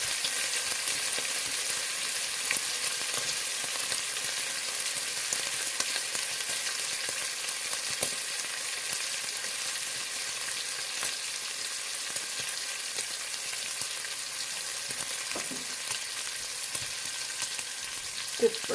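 Ground pork and beef sizzle and fry steadily in a pot for Bolognese, a continuous close crackling hiss with occasional stirring scrapes and no talk.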